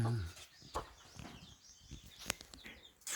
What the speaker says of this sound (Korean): 자기 품속으로 병아리를 다 잡아가지고 체온 유지를 시켜주고